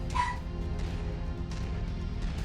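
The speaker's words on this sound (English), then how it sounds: "She's barking down the stairs." A dog barks from downstairs in a home, one short sharp bark near the start followed by fainter distant yips, under steady low background noise.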